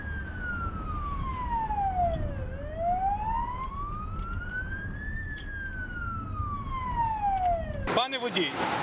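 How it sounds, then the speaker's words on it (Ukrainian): A Ukrainian emergency vehicle's wailing siren on a Ternopil bypass road, rising and falling in long sweeps over road and traffic noise, loud and close, ending in a sharp burst of other sound near the end. "їде спецмашина з сиреною, з маячками"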